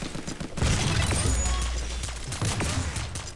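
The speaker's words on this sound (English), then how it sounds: "It's like, the way you use a shotgun, but it's shooting like 3 razors at them." A rapid volley of sharp weapon blasts from a razor-firing gun in the video game Armajet, cracking out loud and dense for several seconds like shotgun fire, with no talk over it.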